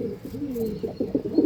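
Pigeons coo close by in a short, throaty rolling phrase, moderately loud, with a few quick pulsing notes toward the end.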